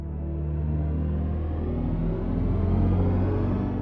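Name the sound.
BMW HypersonX synthetic electric car driving sound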